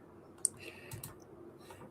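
A few faint clicks from a computer keyboard, quiet and close, irregular taps spread over a couple of seconds in an otherwise quiet room.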